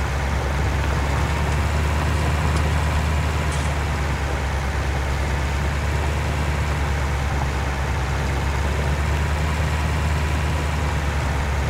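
Continuous loud diesel drone from a Massey Ferguson 277G tractor plowing a field with a four-furrow plow, a deep, even engine rumble heard up close throughout.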